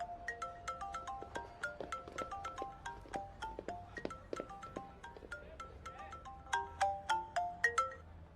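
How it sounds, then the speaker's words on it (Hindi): A melodic phone ringtone plays a repeating sequence of plucked electronic notes, fairly quiet and continuous. "उसका फोन आ रहा है"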